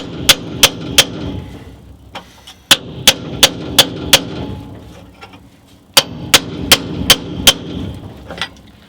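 A 3-pound sledge striking a chisel on the floor pan of a 1958 Volkswagen Beetle, sharp metallic blows in three quick rhythmic series of four to five hits, loud and close.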